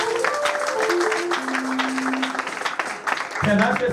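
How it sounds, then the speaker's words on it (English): Church congregation clapping during worship, a dense, steady wash of many hands near and loud, with voices and singing woven through it throughout. "Clap for Jesus."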